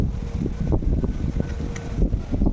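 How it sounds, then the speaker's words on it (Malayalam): Hot wind blows outdoors on a sunny day, a continuous low buffeting rush against the microphone with uneven gusts and rumbles, loud and close throughout. "നല്ല കാറ്റുണ്ട്, ചൂട് കാറ്റാ"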